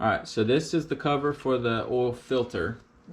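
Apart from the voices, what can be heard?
No distinct noise like a dog, phone or traffic.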